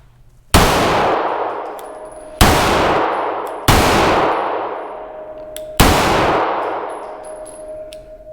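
A Kimber 2K11 pistol with no compensator fires 115-grain rounds in four loud, sharp shots spaced a second or two apart, each report followed by a long ringing decay, with no talking.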